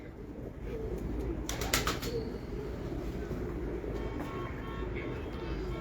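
Pigeons on a rooftop in Multan, giving quiet, low cooing beneath steady outdoor traffic rumble, with a few brief sharper bird calls partway through and distant voices.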